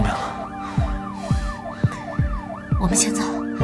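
A police siren recording played from a mobile phone gives a fast, repeating yelp that sweeps up and down several times in quick succession. The sound is close and fairly loud.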